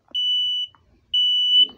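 Two piercing high-pitched beeps from a cheap smoke alarm sound loud and close, separated by a short pause, with faint rustling at the end.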